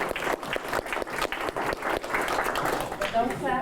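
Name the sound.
audience applause at a talk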